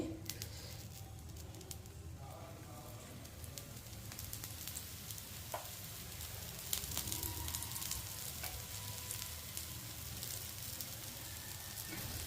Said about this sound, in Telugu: గుమగుమలాడే కాసి నెయ్యి వేసుకుందామండి